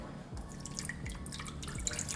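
Water poured into a turkey leg marinade, a soft continuous trickle with small splashes and a few drips, quiet and close, with no talking over it.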